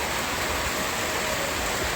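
Steady rain falls in a rural Lao setting, a dense even hiss spread across the whole stretch with a low rumble beneath, constant and unbroken, with no voices.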